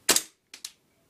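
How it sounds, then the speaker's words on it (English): A KJW 1911 gas blowback airsoft pistol fires one sharp, loud crack, followed by two quicker, softer clacks from the slide cycling back; close and isolated in silence. "That was one shot."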